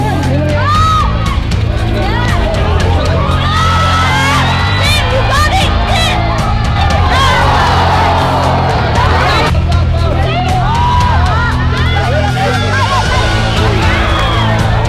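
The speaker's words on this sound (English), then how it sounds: "they were cheering for Malaysia" Crowd cheering for Malaysia at an ultimate frisbee tournament, a dense, steady roar of voices with whoops and shouts, loud and continuous from start to finish, with general babble throughout.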